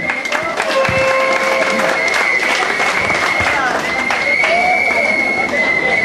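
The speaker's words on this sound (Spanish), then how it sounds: "Dice que un aplauso también." Audience applause and cheering at an outdoor mariachi festival in Rustenburg, a dense, loud wash of clapping over crowd noise with sustained whistles and mixed voices running throughout.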